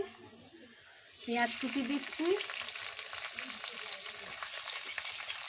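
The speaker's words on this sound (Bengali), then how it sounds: "এই যে কড়াইয়ে তেল দিচ্ছি, তেল দেওয়ার পর একটু পেঁয়াজ কুচি দিচ্ছি" Chopped onion drops into hot oil in a wok and breaks into a bright, sustained sizzle that carries on steadily, with voices talking briefly before it starts.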